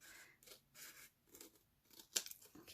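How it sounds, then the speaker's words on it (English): Scissors trimming the top of avocado-dyed paper, a few soft quiet snips with faint crinkling of the paper, close up and otherwise quiet. "So let me just trim the top."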